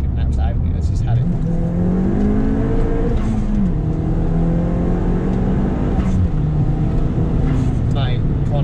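Powerful four-wheel-drive Stage 3 turbo Ford Fiesta accelerating hard in second gear, its engine note climbing steadily under a loud close-up roar, with someone talking over it inside the car.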